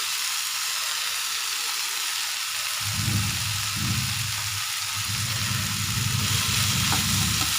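Coconut and mint leaves fry and get stirred in a hot pan, a steady close sizzle with scraping stir strokes beginning partway through and continuing under the crackle.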